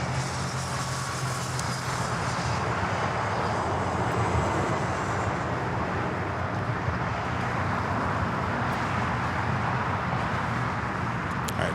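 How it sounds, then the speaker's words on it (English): A Japan Airlines Airbus A350-1000 takes off on runway 25 right at Los Angeles airport, its jet engines a loud, sustained roar that holds steady across the whole stretch. "Japan Airlines A350 1000 now rolling down 25 at right"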